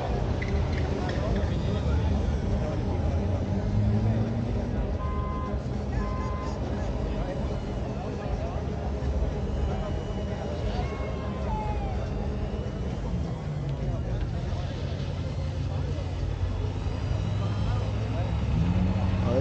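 A pickup truck at a speedway meet, not a Cummins, runs with a steady, loud engine rumble throughout, mixed with crowd noise and nearby voices talking.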